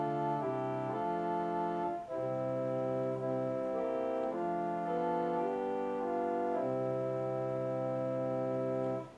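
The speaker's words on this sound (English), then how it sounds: "First is the 8-foot great principal" A steady, broad pipe organ tone from a 1952 8-foot great principal stop holds sustained chords that change slowly, played alone at moderate volume with no voices.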